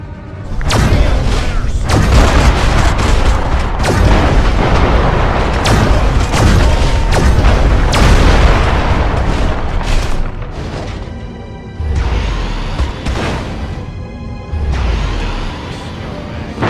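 Repeated heavy booms and crashing blasts as a Majestic base is blown apart in Destroy All Humans, loud and dense, with bursts of debris and a lower rumble near the end.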